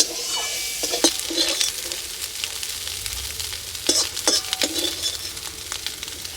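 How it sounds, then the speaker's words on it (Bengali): Steady crackling sizzle of shrimp frying in oil, with a few sharper bursts of spattering and occasional stirring scrapes, fairly close and continuous. "চিংড়ি মাছটা ভেজে নিলাম চিংড়ি মাছ ভাজতে বেশি সময় লাগে না"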